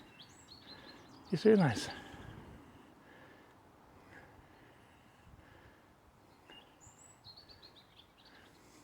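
A few faint, high chirps of a bird come from a distance, with a brief nearby thump and soft speech in a quiet outdoor setting.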